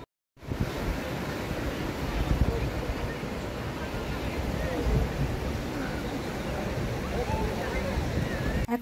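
Sea waves wash onto an empty shore at Old Digha, a continuous broad rushing roar that rises and swells gently, mixed with blustery wind buffeting the microphone.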